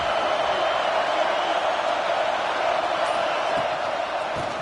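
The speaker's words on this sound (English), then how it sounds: "this home crowd is fired up and ready to make a difference" Home crowd at an LSU college football game, a steady dense roar of cheering that holds at constant loudness throughout with no distinct peaks.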